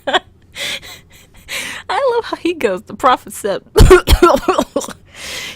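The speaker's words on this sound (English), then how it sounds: "he starts out with a dusty ass cough" Someone speaking gives a single short, rough cough midway, loud and close, with talk from another voice before and after it.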